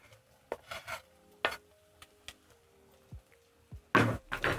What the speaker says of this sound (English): Then I'm going to stir in and cook until fragrant